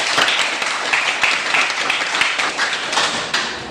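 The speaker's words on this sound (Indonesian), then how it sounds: "Jadi tepuk tangan dulu untuk kalian." A class of students clapping together in a classroom, a dense, steady patter of many hands for nearly four seconds, fairly loud with a few sharper claps standing out.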